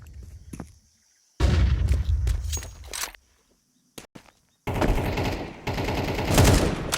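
Grenades and gunfire in a professional Counter-Strike match: bursts of rapid automatic fire and sharp shots in separated clusters, with footsteps and short silent gaps between volleys.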